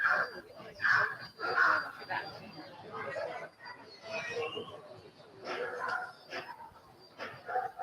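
Small dog yipping and barking in short bursts alongside people talking nearby, the barks intermittent and moderately loud amid the chatter at a press event.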